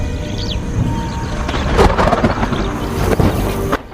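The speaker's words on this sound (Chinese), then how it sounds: "几个月后，非洲草原终于迎来了降雨" Thunder rumbles over steady rain during a storm on the African savanna, with a few sharp cracks and a broad wash of downpour, fairly loud and close, no voices.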